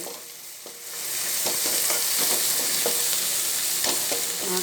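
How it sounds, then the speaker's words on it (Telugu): Onions, green chillies, cloves, cinnamon, bay leaf, ginger and turmeric fry in a pan for a tomato paneer curry. A steady, loud, close sizzle with repeated scraping stirs plays alone. "అందులో లవంగం, దాల్చిన చెక్క, బిర్యానీ ఆకు, ఉల్లిగడ్డలు, పచ్చిమిర్చి వేసిన ఉడుకుతుంది"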